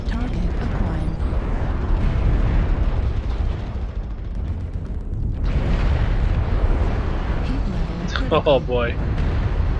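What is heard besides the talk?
mech destroyed in explosion, video game MechWarrior Online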